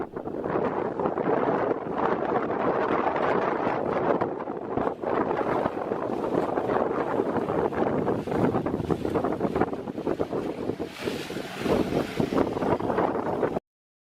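Strong desert wind in Namibia roars continuously into the microphone, a dense buffeting rush that gusts and surges for the whole stretch.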